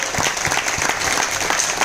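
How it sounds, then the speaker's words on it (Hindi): Dense applause from a seminar crowd, steady clapping filling the whole moment with no voices over it. "मैं बेशुमार तालियां चाहूंगा"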